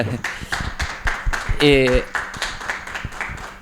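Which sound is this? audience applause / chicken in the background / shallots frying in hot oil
audience applause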